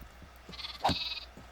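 A single sheep bleat sounds in the Minecraft video game, short and fairly faint, over quiet background game noise.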